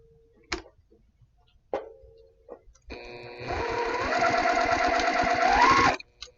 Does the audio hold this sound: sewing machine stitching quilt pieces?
yes